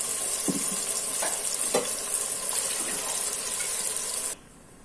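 Ground masala and water hit a hot pan for Mangalore bangude pulimunchi fish curry, giving a loud, steady close sizzle with a few scraping stirs before the hiss drops away abruptly.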